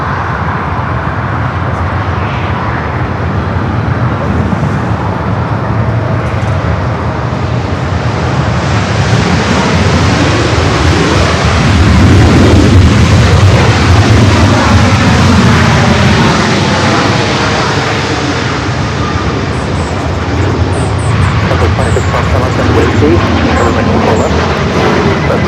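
Airliner taking off at Los Angeles International Airport, a loud sustained jet engine roar swelling in the middle and then holding steady, heard from nearby for about 25 seconds.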